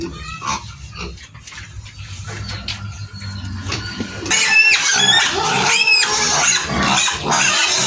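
Pigs in a pen, a sow recently separated from her piglets at about six weeks old, grunt and squeal close by, building into a busy chorus of overlapping squeals in the second half.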